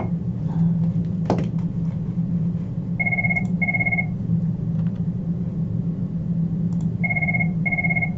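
A telephone rings during an engineering lecture on mechanics of materials, sounding in two pairs of short electronic trills over a constant low room hum, fairly loud and with no talking.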